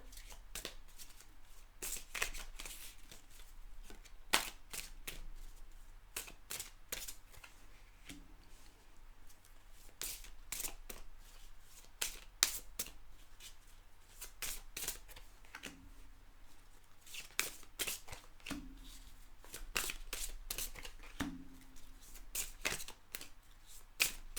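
Tarot cards shuffled and drawn by hand, a run of crisp riffling and snapping bursts in close, quiet surroundings, with soft pauses between the handling.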